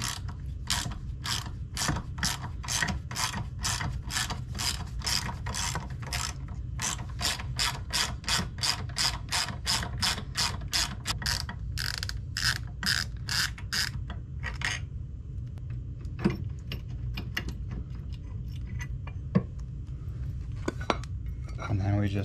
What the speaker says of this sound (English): I'm gonna leave that partially in while we remove the bottom bolt